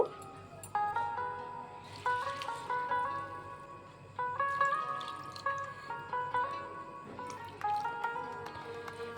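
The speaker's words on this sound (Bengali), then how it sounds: "এখন চিড়েটিকে সুন্দর করে ধুয়ে নেব।" Flattened rice (chira) is washed in water in a bowl, with drips and splashes of water running throughout. Bright metallic clinks and ringing sit over steady low background noise.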